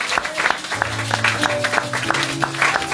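A church congregation applauds and claps in praise of the Lord, a lively burst of many hands with rhythmic claps over organ or keyboard tones.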